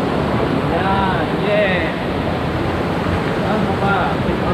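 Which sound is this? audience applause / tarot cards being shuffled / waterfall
waterfall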